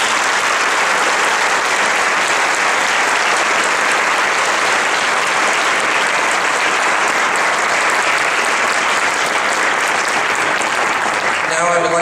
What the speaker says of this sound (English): So please join me in applauding them for their many years of service to our campus.